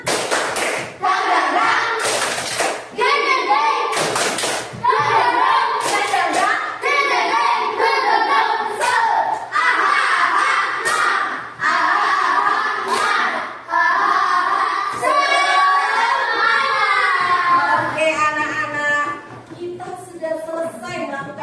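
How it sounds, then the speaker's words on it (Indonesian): A classroom doing a rhythmic clapping cheer: bursts of patterned claps and thumps alternate with a group chanting together, and the claps and voices stay loud and close throughout. "Semuanya tepuk semangat, tapi tepuk semangat yang baru."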